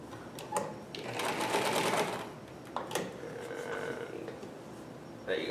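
A vintage Singer 319K sewing machine running a straight stitch, with bursts of rapid mechanical stitching chatter separated by short pauses and a few clicks, close and moderately loud, with faint background voice.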